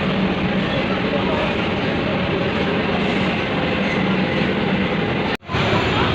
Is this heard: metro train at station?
yes